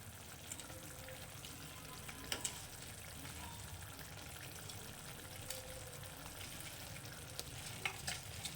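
Faint, steady frying hiss as already-fried potatoes are stirred through a spice paste for soyabean mutha, with occasional soft scrapes of the spoon and no talking.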